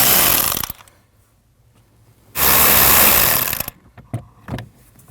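Screws come out of a 2012-2016 Honda CR-V HVAC blend door actuator under a power driver, with two loud, close whirring bursts, the first short and the second over a second long, separated by near silence and a few faint clicks.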